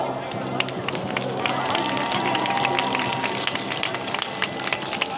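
Audience at a Seoul street rally clapping to welcome speakers to the stage, a sustained wash of many hands applauding at moderate distance with crowd murmur underneath.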